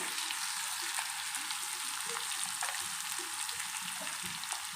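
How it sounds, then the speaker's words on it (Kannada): Beans and carrot palya with onions frying in a pan, giving a steady, even broadband sizzle that holds unbroken at a constant level from start to finish, with no voices. "ಸ್ವಲ್ಪ ಮುಚ್ಚಿಟ್ಕೊಂಡು ಫ್ರೈ ಮಾಡ್ಕೊಳ್ಳೋಣ ಈರುಳ್ಳಿ ಎಲ್ಲ ಬೇಗ ಫ್ರೈ ಆಗುತ್ತೆ"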